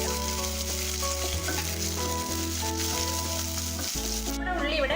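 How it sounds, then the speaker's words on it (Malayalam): Onions, curry leaves and green chillies fry in a pan until golden brown for a paal kappa tapioca dish, giving a loud, steady close-up sizzle with occasional stirring scrapes and no talk. "ഇത് നല്ലൊരു ഗോൾഡൻ ബ്രൗൺ ആവുന്നത് വരെ നമുക്കിതിനെ ഫ്രൈ ചെയ്തെടുക്കാം"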